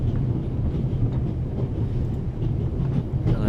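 The Orient Express from the video game The Raven rolls along its Paris to Istanbul route, a loud, steady rumbling of wheels and carriages that never lets up, with no voices over it.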